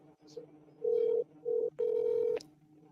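Phone dialing a call, three clear tones in a row, the first and last longer, close and distinct over faint background sound.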